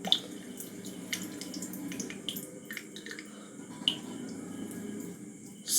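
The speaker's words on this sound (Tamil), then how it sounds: "இப்போ நீங்களே பார்க்கலாம் எவ்வளோ தண்ணி ஊற்றுதுன்னு" Water trickles and drips steadily through a homemade water flow meter, a soft continuous splashing flow with small clicks and drops, fairly quiet and close.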